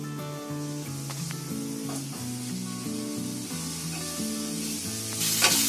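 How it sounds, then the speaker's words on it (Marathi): Masala roasting in a pan, a steady broad sizzle with scraping stir strokes throughout, close and continuous, with no talk over it. "हा मसाला पूर्ण आपल्याला आहे ना आता चांगला भाजून घ्यायचा आहे"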